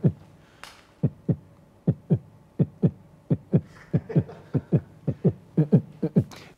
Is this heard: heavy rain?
no